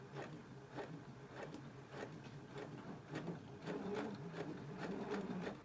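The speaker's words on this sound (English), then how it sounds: "Now I'm going to take it to the machine. I'm just going to baste right along this side of the fly extension." A sewing machine bastes along the fly extension of a pair of shorts, running steadily at close range with a quiet rhythmic whir and evenly spaced stitch ticks, no talking.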